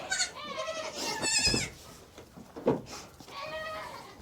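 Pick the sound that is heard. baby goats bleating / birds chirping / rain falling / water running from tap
baby goats bleating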